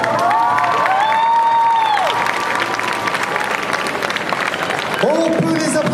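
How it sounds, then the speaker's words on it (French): Crowd applause and cheering for a Knights of the Zodiac cosplay group at the Avignon Geek Expo cosplay contest, steady clapping under loud gliding music tones, with shouts from the audience and a voice cutting in near the end. "On peut les applaudir à Mélodique Expo, le groupe des Chevaliers du Zodiac."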